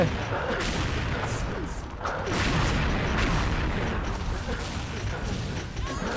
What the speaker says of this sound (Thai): โดนระเบิดตาย